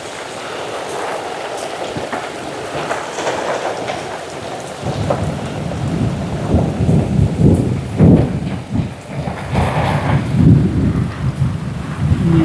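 Rain and thunder on a hill during a camping trip: a steady downpour hisses throughout, then deep rolling thunder rumbles in and swells repeatedly, loud and close, with no talking.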